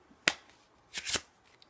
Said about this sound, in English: that's basically what a one-handed shuffle is like